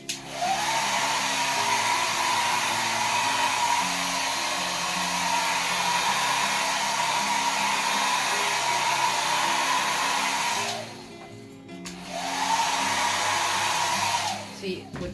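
A hair dryer blows on acrylic pour paint with a steady, loud whir, cuts out briefly for about a second, then starts up again.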